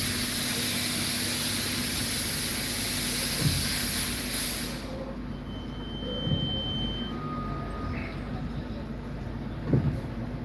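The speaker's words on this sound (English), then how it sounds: "So now he's just going to blow dust from the engine." Compressed air blasts dust out of a vehicle's engine bay after a service, a steady loud hiss that cuts off partway through, leaving quieter background rumble with a few soft knocks.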